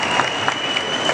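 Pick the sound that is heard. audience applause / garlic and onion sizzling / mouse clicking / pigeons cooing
audience applause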